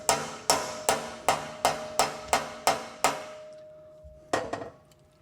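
Close, crisp metal strikes from a hammer tapping an O2 sensor bung into a motorcycle exhaust pipe ahead of welding: eight evenly spaced taps, a pause, then two quicker ones, each ringing briefly.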